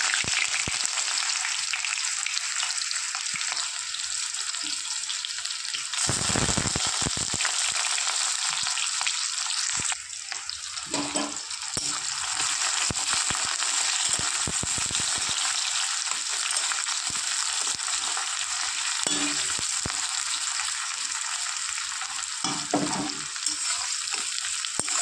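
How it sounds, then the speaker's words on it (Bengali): Chopped onion fries in hot oil at the start of a fish chorchori, a loud, dense sizzle broken by repeated stirring and scraping strokes, close up and unbroken by any speech. "এবার তেল তো গরম হয়ে গেছে, মাছ চচ্চড়ি রান্না করার জন্য দিয়ে দেবো প্রথমে পেঁয়াজ কুচি"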